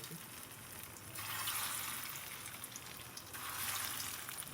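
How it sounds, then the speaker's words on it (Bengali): Soya kababs shallow-fry in oil with a soft, continuous sizzle that swells louder twice; the sound is fairly quiet and nobody speaks. "গড়ে রাখা কাবাবগুলিকে এখন আমি তেলের মধ্যে দিয়ে শ্যালো ফ্রাই করে দিতে"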